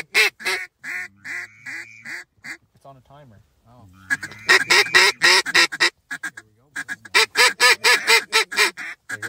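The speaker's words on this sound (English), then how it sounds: "Nice flock of ducks coming in." Repeated duck quacks from a flock heading in over a hunting blind on a good wind, coming in bursts with a voice speaking briefly between them, loud and fairly close.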